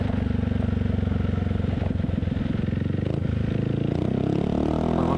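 Yamaha XMAX scooter with a Villan MV1 exhaust and no dB killer, deep bassy engine burble up close, steady low rumble that rises slightly toward the end.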